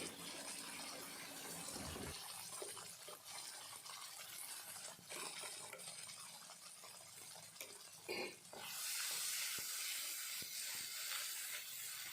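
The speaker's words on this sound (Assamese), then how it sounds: "অকণমান ভাজি পেলাই পানী দি দিম" A loud, broad hiss and sizzle of steam rise as water hits a hot pan of frying catfish curry ingredients, bubbling on steadily, then surging louder near the end.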